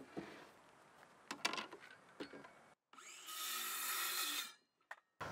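A power saw cuts wooden wall studs to length for a storage shed, with short sharp bursts early on, then a sustained loud whining cut of about a second and a half before it stops.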